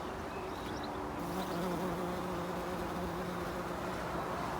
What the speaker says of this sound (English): Oh, look, the bees are still loving those.